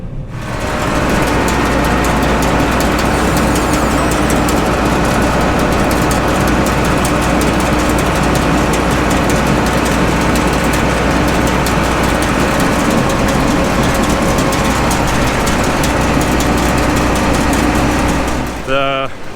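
A combine harvester engine runs steadily at a loud, constant drone while it is being set up for harvesting beans, with no change in pitch throughout and a brief rattle at the very end.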